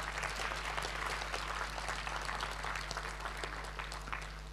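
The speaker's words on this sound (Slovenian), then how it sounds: "zdaj slišim buren aplavz" Sustained applause from an audience at the opening of an education conference, dense steady clapping lasting throughout without a break, fairly close and even in level.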